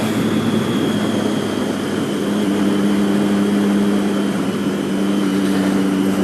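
A motorcycle engine heard while riding on an evening road, giving a steady, loud droning hum with a constant pitch that holds evenly throughout.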